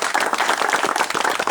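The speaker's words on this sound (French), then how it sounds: "Je voudrais bien qu'on applaudisse l'équipe qui a organisé tout ça." Audience clapping in a crowd after a call to applaud the team that organized an event about the Akfadou forest, a dense steady patter of many hands close by, no speech.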